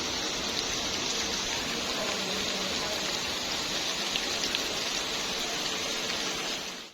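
Steady rain keeps falling outdoors at a home, a constant even hiss that stays at moderate level, with no voices, until it cuts off at the end.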